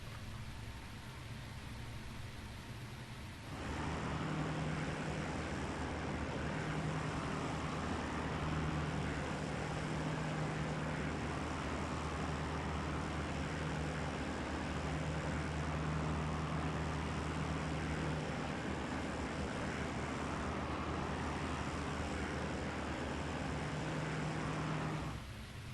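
Heinkel He-111 bomber engines droning in flight in IL-2 Great Battles. A steady, loud, wide roar swells in after a quieter start and holds unbroken, with a faint low pulsing hum running under it.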